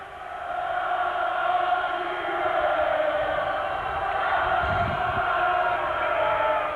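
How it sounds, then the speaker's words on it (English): A football crowd of several thousand at Agborough chants "come on you Reds" during a Preston match, a steady, dense roar of massed voices holding at a loud, even level for the whole stretch. "come on you Reds, ringing out here at Agborough this afternoon"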